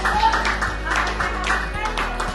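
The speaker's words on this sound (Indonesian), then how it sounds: "Oke, tepuk tangan buat kelompok pendahuluan sama gambar yang bagus." A classroom of students applauds a group, scattered hands clapping in a light, uneven patter at moderate distance, with a steady hum underneath.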